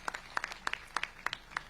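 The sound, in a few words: audience applause welcoming a speaker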